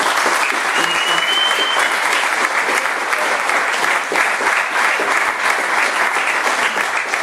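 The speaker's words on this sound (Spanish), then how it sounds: "yo pediría en este momento un fuerte aplauso" An audience applauds steadily and loudly at a political event in Argentina honoring Lula da Silva's release from prison, a dense continuous wash of clapping from a large crowd throughout, with faint voices underneath.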